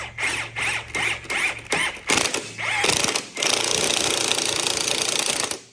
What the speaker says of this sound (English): And then I take my Ingersoll Rand impact and I'll just tighten this down.